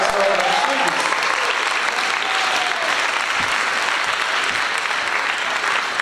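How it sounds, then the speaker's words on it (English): A large crowd applauds steadily at a high school spring choral concert, a dense wash of clapping that stays loud and even throughout, with a few faint voices mixed in. "How about a round of applause for all of our students?"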